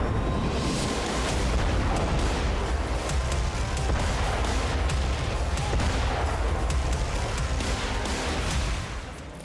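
Dense, continuous rumbling blasts and crackling bursts near the Ukraine border, loud and sustained with overlapping booms and sharp cracks throughout.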